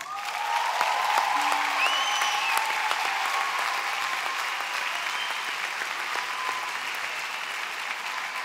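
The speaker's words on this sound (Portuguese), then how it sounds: "queremos uma enormíssima, calorosíssima salva de palmas para um amigo" A live audience applauds a musician on stage, steady dense clapping from a large crowd that swells early and holds loud throughout.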